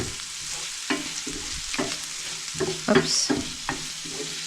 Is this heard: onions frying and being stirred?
yes